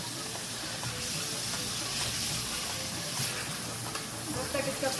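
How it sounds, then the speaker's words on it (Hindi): Chicken pieces frying in a karahi for restaurant-style chicken karahi, giving a steady, dense sizzle and hiss that holds at an even level throughout, with faint stirring and no clear talk. "इसको हम अच्छी तरह से चिकन को फ्राई करेंगे"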